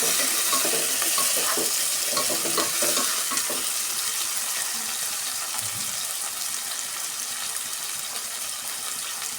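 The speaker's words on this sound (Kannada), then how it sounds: "ಟೊಮೆಟೊನ ಸ್ವಲ್ಪ ಫ್ರೈ ಮಾಡ್ಕೊಳ್ಳೋಣ." Tomatoes fry in a pan for hotel-style potato sagu, a loud close sizzle with busy stirring scrapes early on that gradually settles into a softer, even frying hiss, with no talking.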